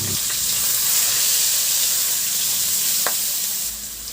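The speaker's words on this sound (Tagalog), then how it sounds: "bawasan ko yung mantika at igisa ko na rin yung bawang at luya" Garlic and ginger sautéing in leftover oil from fried fish, a loud, steady sizzle close by with a faint scrape of stirring partway through, easing slightly at the end.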